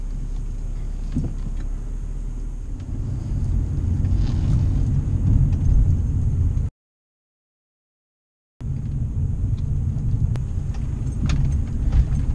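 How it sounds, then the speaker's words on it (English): A car rolls through a residential neighborhood, heard from inside as a steady low road rumble and engine hum, cut by a short silent gap before the drone resumes. "Taking a little drive through my neighborhood."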